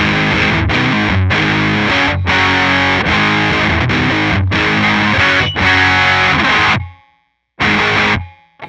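Loud electric guitar through a distortion pedal, chords strummed in a steady rhythm, cutting out briefly near the end before one more crunchy burst.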